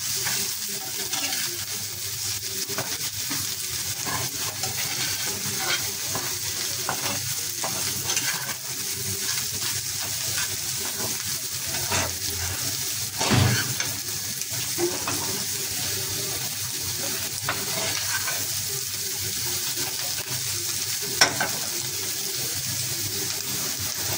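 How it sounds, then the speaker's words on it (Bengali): Radish and egg fry together in a pan, a moderate, steady sizzle with faint stirring scrapes and a couple of brief clatters, heard alone without speech. "ডিম মুলা ভাজি আমার শেষ পর্যায়ে"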